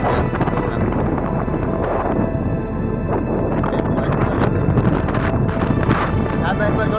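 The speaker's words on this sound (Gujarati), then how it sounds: "પવન ફૂલ છે ધાબે પર અત્યારે પવન છે" Strong gusts of wind buffet the microphone in a constant roar, while a person talks underneath the noise.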